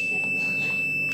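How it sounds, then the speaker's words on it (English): An Arduino-built multimeter in continuity test mode sounds its buzzer as the probes are shorted, giving a steady, unbroken high-pitched tone that stays loud and close for the whole short moment with no talking. "So if I short this, you can hear the buzzer."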